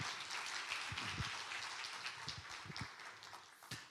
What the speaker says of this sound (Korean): 박수로 뜨겁게 환영해 드리도록 하겠습니다.